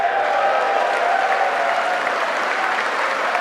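Steady applause from a crowd, dense and continuous clapping that holds at an even level throughout.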